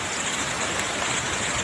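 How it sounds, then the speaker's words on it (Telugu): Steady rain driven by wind and dust at a rural house under construction, a constant dense hiss close by with no voices. "అనుకున్నట్టుగానే గాలి దుమ్ము వర్షం అయితే వచ్చేస్తుందండి."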